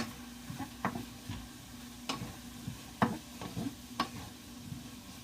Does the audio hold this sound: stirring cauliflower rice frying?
yes